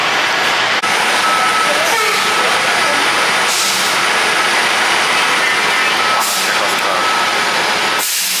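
NJ Transit bus idling and pulling out at the Atlantic City bus terminal, a steady loud engine rumble with hiss bursts and a faint reversing beep, continuous throughout with no talk.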